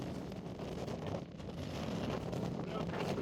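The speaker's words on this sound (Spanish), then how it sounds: "Hacía un ventarrón." A strong gale buffets the microphone during a mountain descent near Pikes Peak, Colorado, a steady broadband roar with gusty swells, loud and close throughout and with no speech.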